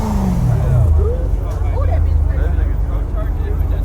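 A 600-horsepower Dodge Scat Pack roars as its tires spin, with a loud engine note that sweeps down and then holds a steady, rough drone. Excited voices shout over the noise throughout.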